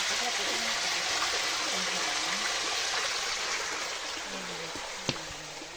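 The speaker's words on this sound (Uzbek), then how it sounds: "Yerlardan chiqyapti mana buloq suvi." Spring water wells out of the ground in a city park in Xonabod, making a soft, steady trickling hiss close by, with faint murmuring voices and a single sharp tap near the end.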